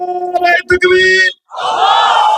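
A large crowd at an Islamic mahfil roars back a chant response in unison, following a lone voice calling out the rallying line; the crowd's answer swells loud and sustained for about a second after a brief pause.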